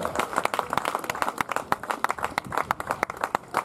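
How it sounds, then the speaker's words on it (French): A crowd applauding at a mountain bike race podium, with dense, irregular clapping that stays steady throughout, moderately loud and fairly close. "vous applaudissez, s'il vous plaît, cette deuxième place avec Hélène Clausel."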